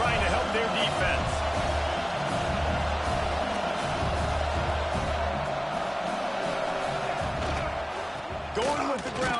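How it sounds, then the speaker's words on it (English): A packed stadium crowd roars continuously during a Alabama versus Washington college football game, a loud sustained wall of cheering and whooping that swells near the end. "Listen to this crowd just shaking the girders of this place, trying to help their defense."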